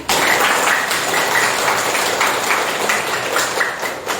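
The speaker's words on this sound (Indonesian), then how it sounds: "Tepuk tangan untuk kelas kalian" A school class applauds at the close of a positive-culture classroom presentation, a continuous wash of many hands clapping at fairly close range, steady and dense with no voices rising above it.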